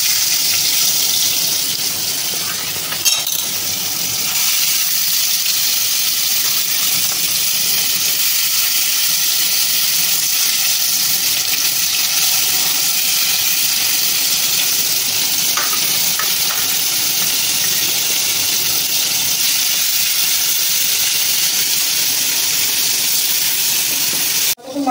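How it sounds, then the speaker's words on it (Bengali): Katla fish pieces frying in hot oil, a steady close sizzle and crackle that holds evenly for the whole stretch, with no talk over it. "মাছটা ভাজা হচ্ছে"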